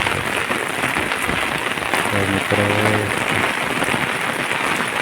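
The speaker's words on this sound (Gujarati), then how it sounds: "કેટલો વરસાદ પડે" Steady heavy rain hisses across the whole stretch, with a voice speaking briefly over the downpour in the middle.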